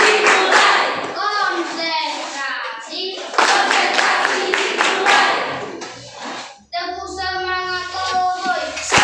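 A school class does a concentration clapping routine, the children chanting together in rhythm with bursts of hand claps, loud and close, with a brief pause before the group voices resume.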